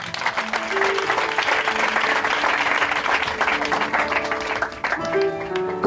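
A church congregation at a Sunday service applauds the Lord in sustained, dense clapping, with music tones and voices mixed in and a brief dip before the applause swells again.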